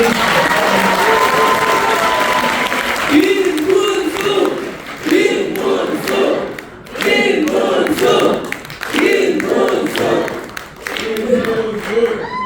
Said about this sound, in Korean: 그래서 오늘 이 자리에 김문수 후보님 특별히 아무래도 우리 박수 한번 응원하는 게